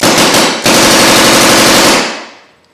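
Belt-fed machine gun firing a loud, close burst of rapid shots, a brief pause early on, then a sustained stream that cuts off and rings down into a fading echo.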